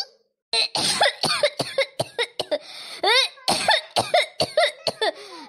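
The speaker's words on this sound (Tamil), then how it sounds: "தாங்க முடியலப்பா அந்த இருமல் தொல்லை" A long run of harsh, repeated coughing fits, loud and close, with brief gaps and throat-clearing sounds between bursts.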